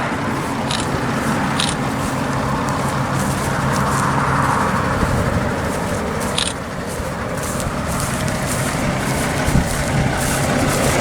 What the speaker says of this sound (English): See that tractor there?